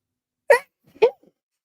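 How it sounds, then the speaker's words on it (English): Two sharp, close bursts sound half a second apart, loud and abrupt, like a person sneezing, with near silence around them. "Ooh, I got to sneeze, guys."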